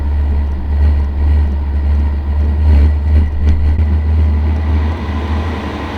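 A diesel heater starts from cold outdoors as its blower ramps up, giving a loud, steady, low droning hum with a whirring mechanical texture that holds throughout.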